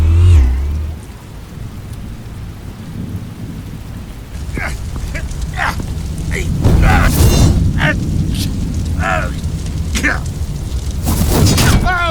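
Explosives detonating in the game Batman: The Telltale Series: heavy rumbling booms and crackling blasts roll over a rain-like wash, with shouted voices and talk breaking in between the bursts.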